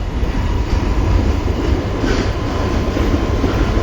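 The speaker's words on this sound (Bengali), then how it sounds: "এই দেখো মেট্রো যাচ্ছে, আমাদের বাড়ির সামনে থেকে যায় একদম" A metro train runs past close to a house, producing a loud, steady rumble and rattle of wheels and cars that fills the whole stretch without pause.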